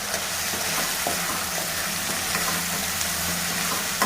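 Tomato chicken curry with turmeric fries in a pan, a dense steady sizzle with occasional stirring clinks and scrapes, close and continuous with no talking.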